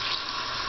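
Steady shower water streams and splashes continuously over a baby, a full, close, even hiss of running water with no talking.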